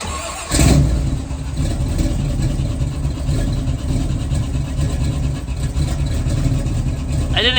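A 1979 Camaro engine catches and runs with a loud, rough mid-pitched roar and uneven revving, a squealing belt under the hood adding a high whine near the end.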